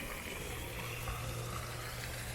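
Water splashing steadily into the reservoir of an old excavator converted into a recirculating, self-refilling fountain, outdoors; a continuous broadband wash with a low hum beneath, alone without talk.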